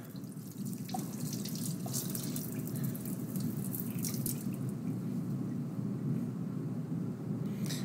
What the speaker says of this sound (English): is dump this out and rinse my egg off and rinse my cup out. Sink right here, I'm doing that in.